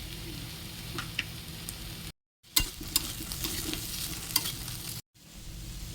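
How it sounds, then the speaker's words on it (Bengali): Cauliflower and potatoes frying in a pan, a soft steady sizzle with scraping stirs and light clicks of the spatula, cut by two brief gaps of silence, no talk. "ফুলকপি আর আলুটা ভালোভাবে ভাজা ভাজা হয়ে গেলে এটা অ্যাড করে দেবো"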